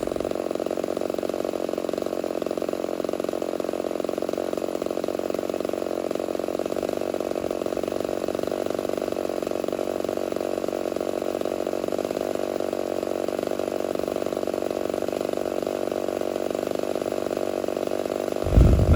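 A vintage chainsaw engine runs during carburetor tuning, holding a steady, buzzing high idle close by with almost no change in pitch, then gives a brief louder bump at the very end.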